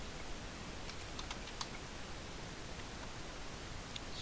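Light, quick keystrokes tap on a computer keyboard while entering data into form fields, faint and scattered over a steady hiss of background noise.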